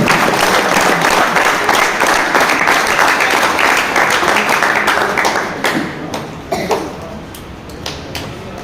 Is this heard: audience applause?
yes